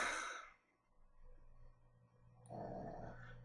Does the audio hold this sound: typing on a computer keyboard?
no